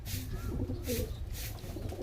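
An Andhra Kalshira high flying pigeon in a loft coos softly and steadily, close by and fairly quiet, over a faint background hum, with no talk.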